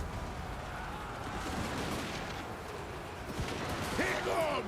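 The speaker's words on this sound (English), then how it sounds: "Got the cannons going in here." Cannons fire during a video game battle, with dull booming blasts mixed into a dense, continuous roar of combat noise at moderate loudness.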